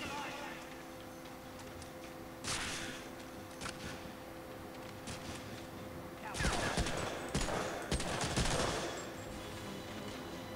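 Video game gunfire comes in scattered bursts of rapid shots, faint and somewhat distant, with a heavier flurry near the end over a steady background hum.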